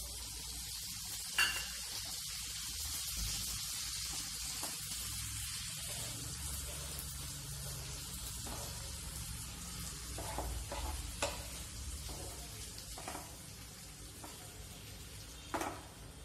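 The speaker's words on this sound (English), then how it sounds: "I am adding some salt and the green gravy to it." Sponge gourd sabji sizzles steadily in a pan after salt and green gravy go in, a soft continuous frying hiss broken by occasional clicks and scrapes of a stirring spoon.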